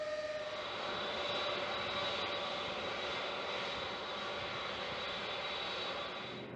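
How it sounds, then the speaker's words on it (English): A C-5 Galaxy military transport aircraft taxiing at an airport, its jet engines producing a steady, loud broadband roar with a faint high whine, sustained throughout without voices. "The C-5 has to taxi out its way to the runway carefully."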